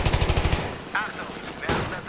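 Burst of rapid automatic gunfire from Battlefield 3 close-quarters play, loud and evenly paced for about half a second, then quieter game sounds with a few scattered noises and another brief crack near the end.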